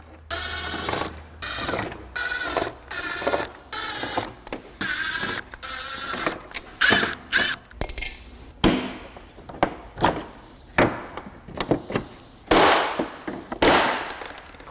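Screws and one-time-use clips being pried and removed from a plastic trim piece on a Honda Pilot, heard as a series of sharp snaps, clicks and short ratcheting bursts in irregular groups, close and fairly loud, with no talk.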